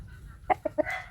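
A rooster at a village cockfighting gathering gives three short, sharp clucks in quick succession, then a brief higher call, close and fairly loud over a low murmur of background noise.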